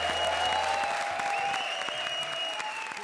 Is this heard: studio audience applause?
yes